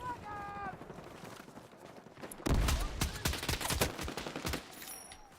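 DMR rifle gunfire in the shooter game Battlefield 6, a dense burst of sharp shots and impacts starting midway after a quieter stretch of game ambience, loud and close, with a voice speaking in the first part.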